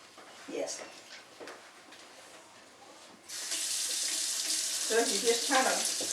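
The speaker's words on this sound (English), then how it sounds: "And just get tap water?" Tap water runs from a kitchen faucet during a pie baking class, a steady loud hiss that starts abruptly midway, with a person talking quietly before it and briefly over the flow.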